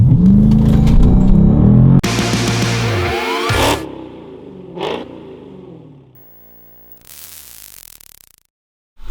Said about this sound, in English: 0 to 60, left foot on the brake. Launch mode is now active.